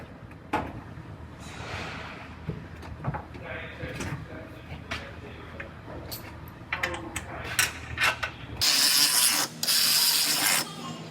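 A ratchet works on the bolts that hold a new front apron piece on a wrecked Dodge Ram, with fast clicking runs and mechanical knocks close by. A loud, hissing rush of noise takes over near the end.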